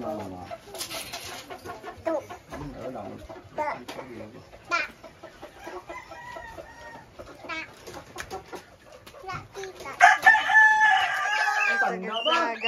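A rooster crows repeatedly in a rural provincial yard in Negros Occidental, loud and close near the end, amid clucking chickens and other birds, with people talking over much of it.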